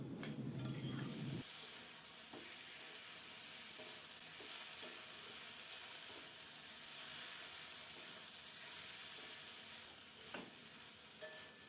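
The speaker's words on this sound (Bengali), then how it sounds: "আমি এখন 10 থেকে 15 মিনিট ধরে লো ফ্লেমে কষাতে থাকবো" Red amaranth greens sautéing on low flame for a chorchori, a faint, steady crackling sizzle with occasional light stirring clicks; a brief louder rustle opens it, and no one speaks.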